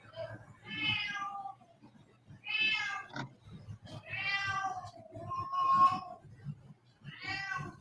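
A pet cat meows repeatedly, five or so drawn-out, fairly loud calls spaced a second or two apart, with a low steady hum and faint rumble underneath between the cries.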